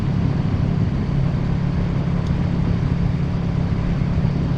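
A motorcycle engine running with the throttle rolled on during gear-shift practice, a steady droning hum that holds level throughout with no talk over it.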